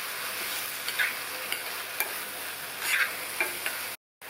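Cut mushrooms being stirred and sautéed in oil in a pan for a mushroom coconut-milk curry, a soft steady sizzle with periodic scraping stirs and light clinks, close and without speech.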